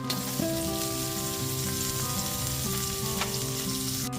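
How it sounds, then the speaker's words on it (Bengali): Sliced onion drops into oil where chopped garlic is already frying for a chicken stew, giving a loud, even sizzle with a faint steady hum underneath and no talking. "রসুনটাকে 10 থেকে 20 সেকেন্ড ভেজে নেওয়ার পর এর মধ্যে দিয়ে দিচ্ছি স্লাইস করে কেটে রাখা পেঁয়াজটাকে।"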